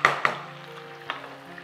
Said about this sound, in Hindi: ऑयल में प्याज ऐड की, ब्राउन की, उसके बाद चिकन ऐड किया